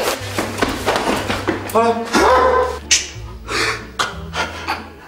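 A small dog gives a few sharp yelps and barks between scuffling and rubbing noises, with someone talking.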